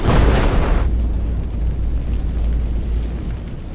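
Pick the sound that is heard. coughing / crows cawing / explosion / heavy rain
explosion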